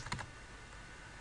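A short burst of keystrokes on a computer keyboard while entering a command in the CentOS 7 command line, a couple of quick close taps over faint background hiss.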